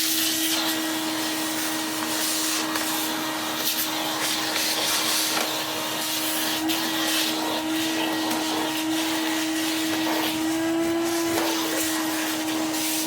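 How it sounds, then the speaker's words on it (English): A Numatic vacuum cleaner runs steadily with a constant motor drone and whirring airflow hiss, loud and close throughout with only slight pitch wobble and no speech over it. "Let's take the brush off and put it out the way before I vacuum it up."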